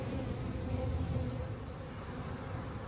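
Honey bees swarming at a hive entrance, a dense continuous buzzing hum of many insects, fairly close and steady with no voices.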